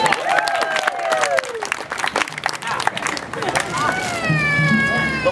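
Audience applause for a knife-juggling performer, a loud continuous clapping crowd with cheers and a voice over it.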